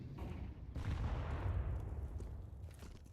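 A grenade explosion in Counter-Strike: a heavy, rumbling boom that swells and holds for about two seconds before tapering off, fairly faint and with no talk over it.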